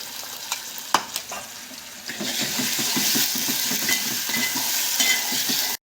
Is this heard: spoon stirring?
yes